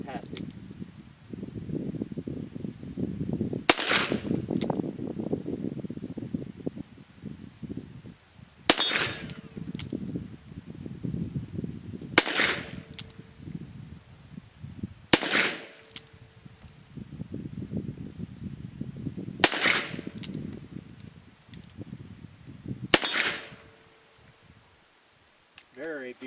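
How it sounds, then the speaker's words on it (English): A factory-engraved Colt Python new-model .357 Magnum revolver with a 6-inch barrel fires six sharp, loud shots spaced several seconds apart, with someone talking steadily between them. "Very beautiful shooting my pistol there. It shoots like a rifle."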